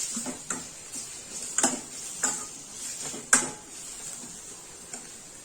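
Chopped ingredients, onion-style, fried in a pan for a red mutton fry: a faint steady sizzle with several sharp spatula taps and scrapes against the pan, no talking.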